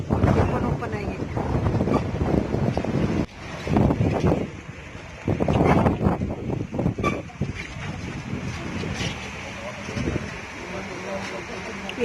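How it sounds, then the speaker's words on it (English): Strong wind buffets the microphone on open, dusty zoo grounds, a steady roaring rush with gusty surges throughout, while people talk over it. "बहुत windy है।"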